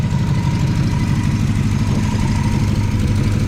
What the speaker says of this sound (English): It seems like it's got a little shake to it. Might have a bad plug or something, but it actually idles